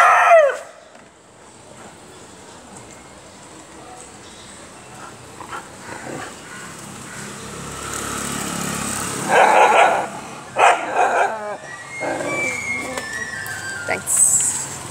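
Stray dogs barking outside a house while being fed, a few sharp barks scattered mid-clip over outdoor background and a rooster-like call, with people talking nearby.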